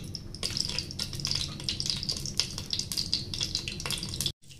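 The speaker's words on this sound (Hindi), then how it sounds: "ऑयल गर्म हो जाए तो इसमें ये मस्टर्ड सीड डालेंगे।" Mustard seeds dropped into hot oil in a pot on a gas stove while making kanda poha, a dense crackling sizzle that keeps up steadily for several seconds, then cuts off abruptly near the end.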